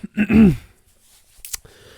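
A single harsh throat-clearing cough up close, followed by a short sharp sniff, then quiet.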